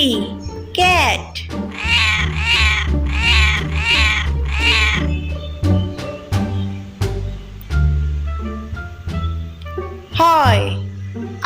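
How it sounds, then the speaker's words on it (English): A cat meows several times in quick succession, then gives one more meow near the end, each call clear and up front over steady backing music. "C for cat."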